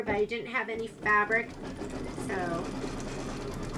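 An embroidery sewing machine stitches a Kimberbell quilt block with a steady mechanical whir and rapid needle rhythm, running under someone talking nearby.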